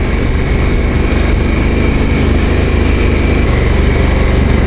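A Honda Africa Twin motorcycle rides on sandy forest tracks in the Otway Forest, Victoria, its engine droning loud and steady throughout with constant mechanical roar.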